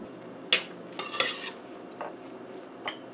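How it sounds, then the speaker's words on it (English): Finely chopped onion, about two medium onions, is stirred into hot oil in a pan: a few separate metallic scrapes and clinks of a utensil over a quiet, soft sizzle, with no voices. "And saute onion."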